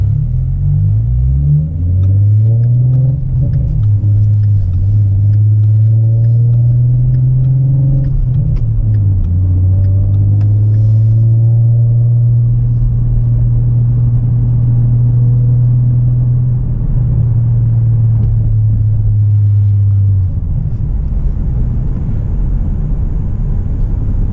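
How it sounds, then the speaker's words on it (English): Low, steady rumbling car engine running close by on 93-octane gas, its pitch climbing briefly early on before settling into a constant drone. "the car is quieter with the 93 gas"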